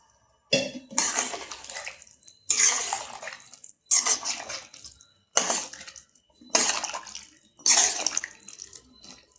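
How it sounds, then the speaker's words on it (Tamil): Water is poured from a vessel in six separate bursts, splashing into a metal pot of vegetable curry, each pour lasting about a second with brief pauses between. "இப்போ இன்னும் ஒரு 1/4 சொம்பு தண்ணி ஊற்ற போகிறேன்."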